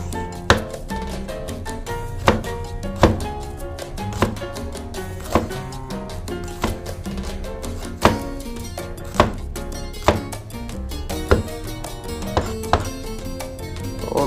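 A knife chops food finely with a steady stream of crisp, close strikes, a few louder thunks punctuating the rhythm, over faint background sound.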